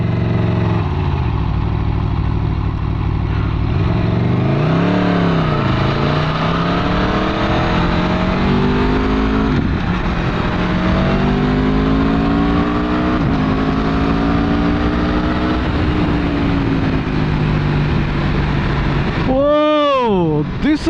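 An Aprilia Tuono V4 motorcycle engine on the road, a loud, close roar rising and falling through throttle changes during a ride, with a sharp rev burst near the end.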